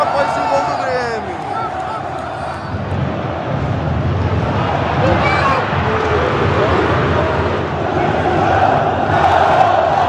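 A packed Mineirão stadium crowd at an Atlético-MG versus Grêmio football match roars and chants after a goal, a dense, loud, continuous wall of voices for the whole stretch with no pauses.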